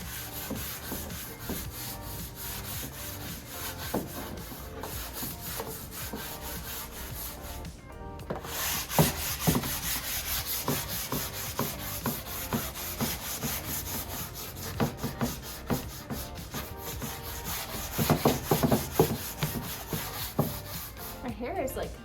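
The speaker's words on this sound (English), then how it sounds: "now I'm back to sand a little bit with my sanding bond." A sanding block rubs over a wooden Broyhill dresser by hand in steady back-and-forth scratchy strokes, close and fairly loud, with a few sharper scrapes and knocks later on.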